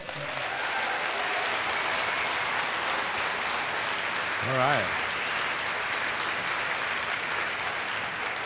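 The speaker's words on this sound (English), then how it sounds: "Your applause, please, for Austin, Texas, Mr. Dillahunty." Steady applause from a lecture audience welcoming a speaker, continuous and even, with a short spoken remark rising briefly above it midway.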